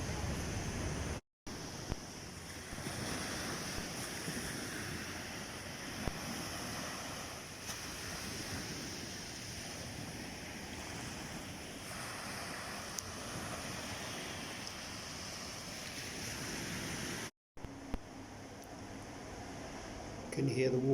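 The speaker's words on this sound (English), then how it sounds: "there are waves and they're going 24 hours a day, splash, splash." Steady wash of sea waves splashing on a Barbados beach with wind rumbling across the microphone, a constant low roar with a couple of brief dropouts.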